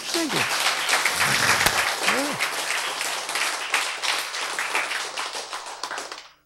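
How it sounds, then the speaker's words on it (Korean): A church congregation breaks into sustained applause during a sermon, a dense patter of clapping with a voice briefly over it at the start, tapering off toward the end. "박수"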